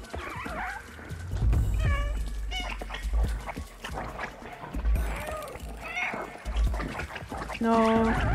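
Cat meowing in the video game Stray, several short meows repeated in bursts over thumping movement and game noise, fairly close and clear, with no talk.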